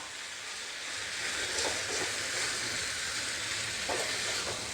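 Grated coconut and tomato fry in a hot pan for a Chettinad mutton gravy, a continuous soft sizzle and hiss with faint crackles, steady and close, no talking.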